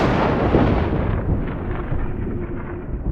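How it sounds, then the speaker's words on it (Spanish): A deep thunder-like rumble rises from the ground, heavy and loud at first, then tapering off as a lone sound effect under horror narration. "Sonaba como un trueno, pero desde el suelo, como un bramido quejumbroso cada vez más fuerte y claro."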